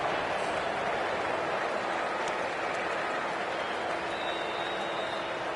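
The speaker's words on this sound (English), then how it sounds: "There's an almost tangible fervour throughout the crowd at the moment." Steady roar of a stadium crowd cheering and applauding in a cricket video game, a dense continuous wash of noise with no clear breaks, fairly distant and even in level.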